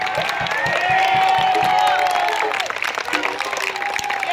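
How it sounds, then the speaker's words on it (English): A large outdoor rally crowd applauds loudly and continuously, with cheering and whooping voices rising through the clapping. "Please give a round of applause to the people putting this event on right now."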